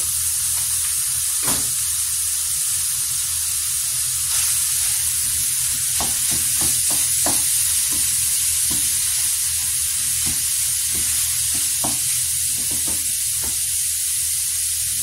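Ground beef frying in a pan, a steady loud sizzle broken by scattered sharp scrapes and clicks from stirring, with no talk.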